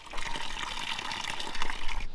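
Water gushes and splashes steadily from an old broken Ford tow truck as a part is taken off, a continuous close liquid spray lasting a couple of seconds.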